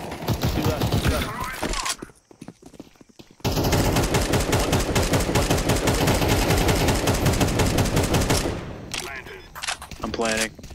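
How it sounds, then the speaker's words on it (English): Rapid automatic gunfire in Counter-Strike 2 rattles in dense, continuous bursts, breaking off briefly, then resuming in a long sustained stream before tapering into sparser shots, with voices talking over it. "He's shooting me."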